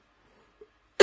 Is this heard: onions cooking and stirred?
no